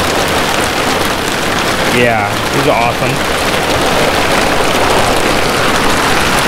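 Heavy rain pours and hammers steadily on surfaces during a pre-front thunderstorm on a fishing outing, a loud dense wash throughout, with someone briefly speaking over it.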